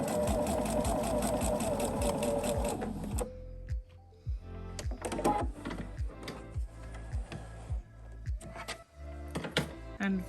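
Sewing machine stitching bias tape down along a fold line, a steady mechanical whir for about three seconds, followed by short stop-start bursts of stitching and faint handling clicks.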